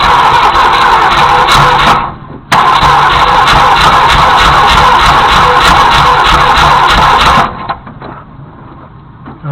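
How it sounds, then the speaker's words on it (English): A Ford Galaxie 390 V8 freed from a seized state starts and runs loudly up close, a strong continuous engine roar with one brief dropout early on before it settles into a quieter idle near the end. "Let's give her a little more juice here"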